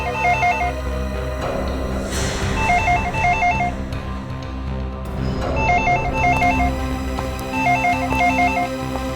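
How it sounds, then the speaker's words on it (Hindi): A telephone bell rings loudly inside a house in repeated trilling bursts, four clear rings over a bed of dramatic background music. "फोन को हाथ मत लगा।"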